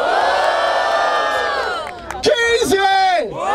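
Crowd at a street rap battle roaring and shouting loudly and continuously, a dense wall of voices that dips briefly before bursting into fresh whoops and yells, close and full.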